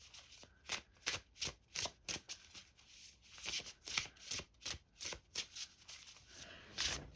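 Oracle cards are shuffled by hand in a steady run of soft, close riffling bursts, roughly two per second, with no talking.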